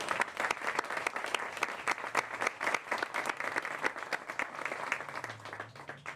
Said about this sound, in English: Let's give them a round of applause, in fact.